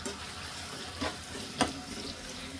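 Tomatoes fry with salt in a pan while bitter gourd is being cooked, giving a steady, even sizzle with a few louder stir scrapes and clatters close by and no voices.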